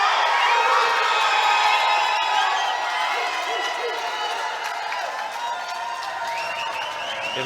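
A dense, loud crowd roars and cheers continuously as a fighter is called out to the cage at a title fight, a sustained wash of voices with shouts and whoops mixed in.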